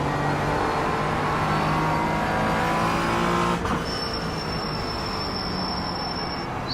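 Race car engine in a sim racing video game, droning steadily through a quick lap with braking and a downshift to third gear, loud and continuous with a high whine entering near the end.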